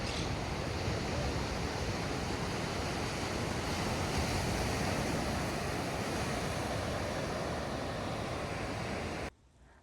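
Steady roar of Mediterranean surf washing onto the shore at Sitges, Spain, continuous and fairly loud with a windy hiss, cutting off abruptly at the end.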